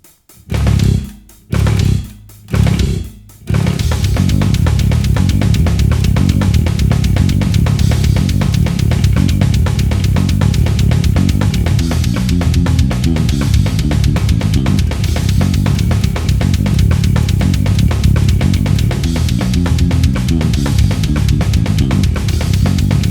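A fast, heavy, distorted bass guitar death metal riff pounds along at breakneck tempo, loud and dense, opening with a few short stabbing hits before driving continuously.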